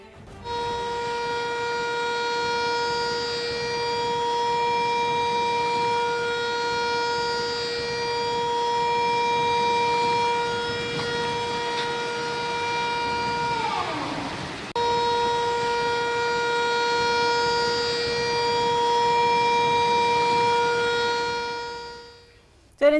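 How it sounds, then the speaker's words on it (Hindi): A steady, loud civil defense siren wails with a sustained tone during floods in Islamabad and Rawalpindi, briefly dipping in pitch midway before resuming, then fading at the end. "बाकायदा सायरन भी बजाए गए हैं, वो अपने नाज़रीन को दिखाते भी और सुनवाते भी हैं"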